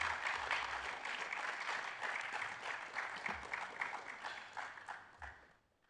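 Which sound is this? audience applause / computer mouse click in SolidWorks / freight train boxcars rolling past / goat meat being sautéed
audience applause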